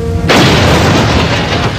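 Atomic bomb explosion: a sudden, massive blast bursts in after a brief quiet and becomes a loud, sustained roaring rumble of the shock wave that fills the rest of the moment.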